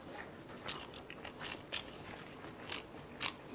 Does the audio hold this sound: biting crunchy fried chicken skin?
yes